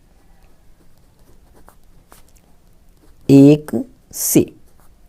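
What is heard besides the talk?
writing an equation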